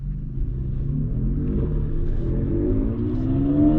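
An Audi A7 55 TFSI quattro with a 48V mild hybrid system accelerates in a sharper drive mode, a low engine rumble rising in pitch as it pulls, heard from inside the car and growing steadily louder with no talk.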